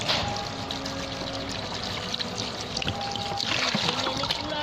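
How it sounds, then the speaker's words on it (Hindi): Water splashes and trickles into a bowl of dried chickpeas, a steady close pour about a litre long with small gurgles and drips, no voices present. "मैं इसमें पानी डाल रही हूँ"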